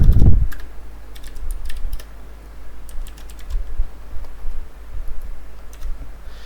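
Keys on a computer keyboard tapped in short irregular bursts while text is entered for a web development lesson, fairly close and clear over a low steady hum, with no talking.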